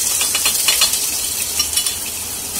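Ginger garlic paste frying in a pan with lightly browned onions for a mutton dish, giving a loud, steady hiss and sizzle with faint scraping, close up and without talk.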